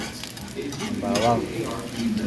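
Garlic sautés in a pan with a steady sizzle and frying crackle, stirred close up, loud and continuous for a couple of seconds.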